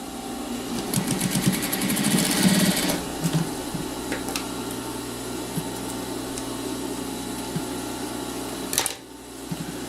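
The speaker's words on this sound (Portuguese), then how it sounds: "eu vou passar uma costurinha só pra nossa argolinha ficar presa" A sewing machine stitches across a small bag strap to fix a ring in place, starting with a fast loud burst of needle strokes and then running at a steadier, quieter hum before stopping abruptly.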